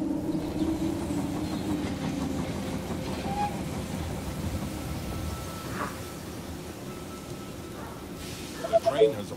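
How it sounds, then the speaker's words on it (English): A train rolls into a station in the They Are Billions strategy video game, a steady rumbling clatter with a voice speaking over it and a few sharper clanks near the end. "The train has arrived at the station."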